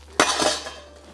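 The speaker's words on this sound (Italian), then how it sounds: "Prima cosa ci serve una bella pentola di acqua bollente" A large metal cooking pot handled for boiling pasta water, giving one sharp clanking knock followed by a brief ringing decay, close and fairly loud, with no talking.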